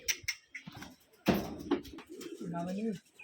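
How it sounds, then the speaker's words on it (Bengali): Soft pigeon coos murmur nearby on a pigeon farm, low and rounded, mixed with faint rustling and a brief knock; quiet overall. "কবুতরগুলো দেখেন আসলে অসাধারণ, সবগুলো কবুতর প্রায় কালার ম্যাচিং।"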